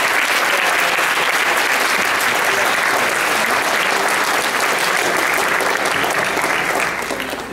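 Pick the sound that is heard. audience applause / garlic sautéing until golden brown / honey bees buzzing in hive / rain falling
audience applause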